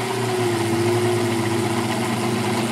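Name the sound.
Sherline machine motor straining while roughing aluminum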